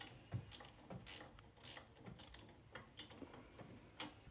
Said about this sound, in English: you'll notice that I'm using a open end ratchet